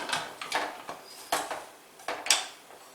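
Pressure cooker lid closing over rice cooking with salt and coconut milk for biryani: a string of sharp metallic clunks and knocks at irregular intervals, close and fairly loud, with no talking.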